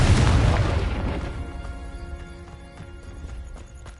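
A Confringo fire spell from Hogwarts Legacy bursts in a loud, close boom whose rumbling tail fades across the following seconds under faint game ambience.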